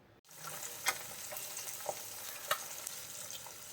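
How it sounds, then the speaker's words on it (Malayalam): Karimeen, pearl spot fish, fries in hot oil in a pan, giving a soft steady sizzle broken by a few brief sharp spits and pops after a short silence at the start. "ഇനി ബാക്കിയുള്ള മീനും കൂടി നമുക്ക് ഇതുപോലെ ഒന്ന് വറുത്തെടുക്കാം."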